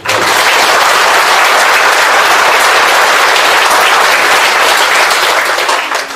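Dense, sustained applause from a large crowd saluting a sports delegation at a Korean city send-off ceremony, loud and continuous throughout with no speech on top.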